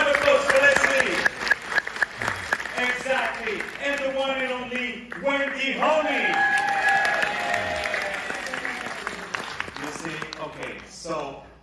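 Audience applause at the Boca International Jewish Film Festival world premiere, steady clapping from a seated crowd filling most of the stretch while a host speaks over it, then fading out near the end.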